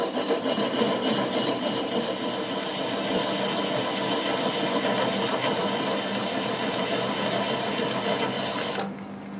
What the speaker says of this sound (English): now I'll go ahead and cut that nub off. Got it about 200 RPM.